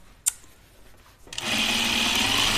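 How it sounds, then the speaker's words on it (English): A sewing machine starts after a couple of brief clicks and then runs steadily and loudly while stitching a Willow tank dress, with no talk. "I'm going to continue to sew this"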